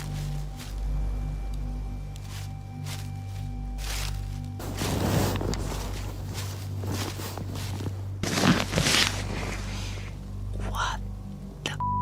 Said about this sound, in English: I just heard footsteps, but this time they sounded much closer, not farther in the path.